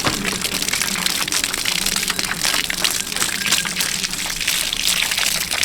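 Water gushes continuously onto the soil of an empty garden bed, making a steady, fairly loud splashing hiss with fine crackling patter and no voices.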